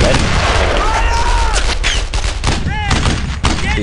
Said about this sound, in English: The freaking artillery.